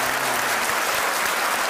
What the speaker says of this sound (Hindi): सर के लिए तालियां होनी चाहिए।